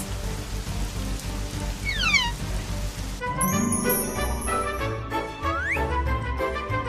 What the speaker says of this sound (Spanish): ¡Está lloviendo!